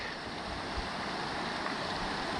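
Mountain river in the Carpathian highlands, heard as a steady, broadband rush of flowing water that stays even and continuous throughout, with no voices over it.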